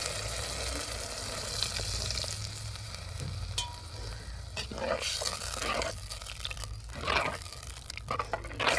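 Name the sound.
water poured into frying fish curry masala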